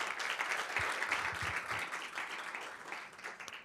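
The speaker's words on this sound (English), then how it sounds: "So another round of applause for them," Audience at an evening dialogue event applauding, a steady wash of many hands clapping that fades slightly toward the end, heard from a distance.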